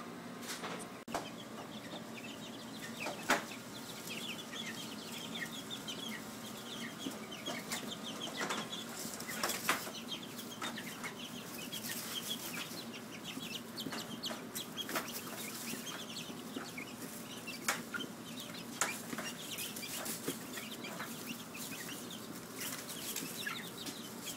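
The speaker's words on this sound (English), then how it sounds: "we finally brought out our chicks, which aren't chicks anymore. The Cornish Rocks." Cornish Rock meat chickens cluck and shuffle around a farm setting, with scattered soft calls and an occasional flutter of wings over a continuous low background.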